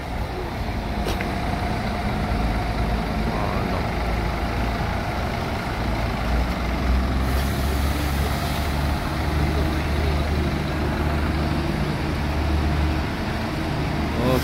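A Tronton-chassis intercity bus pulling into a Riau bus terminal, its diesel engine a steady, loud low rumble throughout with a brief air-brake hiss partway through, no talking.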